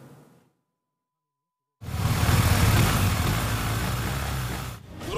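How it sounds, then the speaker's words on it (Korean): A large police motorcycle of over 400 kg, ridden at a police skills competition, pulls away with a loud, deep exhaust roar that bursts in after a quiet gap and holds strong for a few seconds. "우렁찬 배기음을 내뿜으며 오토바이가 출발합니다"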